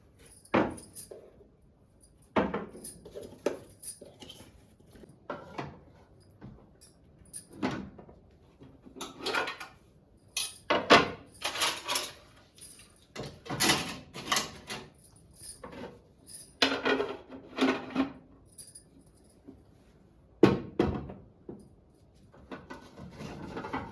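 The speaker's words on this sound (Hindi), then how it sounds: "तो अभी हमने जो है बर्तन इसमें रख लिए हैं" Ceramic plates, bowls, cups and glass tumblers are set into a kitchen cabinet, making a long series of close clinks, knocks and wooden cabinet thuds in irregular bursts with no talking.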